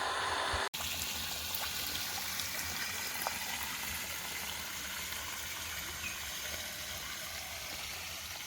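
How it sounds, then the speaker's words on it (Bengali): Water gushing steadily from an electric motor pump, a continuous close rushing flow that follows a single sharp click near the start and then holds even and unbroken, with no voices. "সুইচটাকে এবার অন করে দিলাম এবার ওদিকে গিয়ে দেখি কী অবস্থা আশা করবো জল উঠছে"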